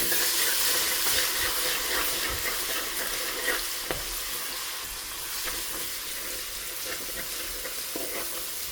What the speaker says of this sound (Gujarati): તેલ થઈ જાય ને પછી આપણે આદુને લસણ નાખવાનું